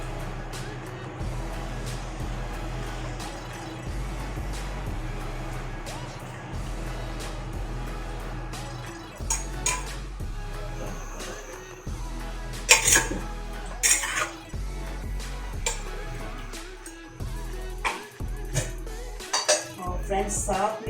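Chicken pieces go into a handi cooking pot amid steady clanking of pots, pans and cutlery, with louder knocks and clinks toward the end, heard alone without talk.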